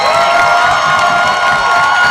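A home crowd at a basketball game gives a loud, sustained ovation, a dense wash of cheering and applause that holds steady throughout.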